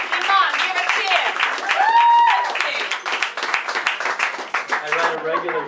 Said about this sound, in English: In the back, come on, give a cheer!